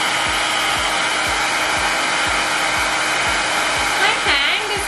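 A Cisco blow dryer runs steadily, blowing hot air with a loud, constant whoosh and motor whine across the whole stretch, with a faint rhythmic ticking underneath and a slight shift in tone near the end.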